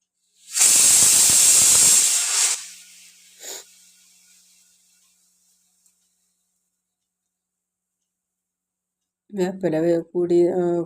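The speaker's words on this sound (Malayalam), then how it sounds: "വേപ്പില ഫ്രൈ പാനിൽ നിരത്തി വെച്ചിട്ട് അതിൽ മീൻ കൂട്ടി വെച്ചിട്ടുള്ള മീൻ അതിൽ എടുത്ത് വറുക്കാൻ നോക്കാം" A loud burst of sizzling as fish hits hot oil on a bed of curry leaves in a pan, hissing sharply for about two seconds then fading away, followed by a voice speaking near the end.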